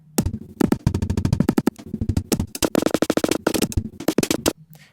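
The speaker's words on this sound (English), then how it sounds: "And here's the granular version." Drum loop chopped up by granular synthesis into glitchy drum samples: rapid stuttering bursts and machine-gun-like repeated grains with sudden gaps, loud and busy, with no voices over it.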